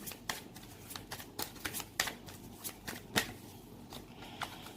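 Tarot cards being shuffled for a reading: a run of quick, crisp riffling snaps at an uneven rhythm, close and fairly quiet, with no voice over them.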